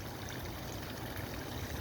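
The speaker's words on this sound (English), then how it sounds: "there's a little water fountain here also, with some little ducks in the water fountain" Steady water trickling and splashing in a small garden fountain with little duck figures, a soft continuous flow at close range with no voices.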